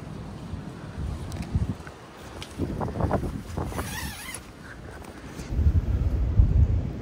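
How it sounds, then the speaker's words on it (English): Strong outdoor wind gusts batter the microphone at a stealth camping spot, making a loud, rumbling roar that swells and eases in waves, without any talk. "the wind has picked up. Like, the wind is crazy right now"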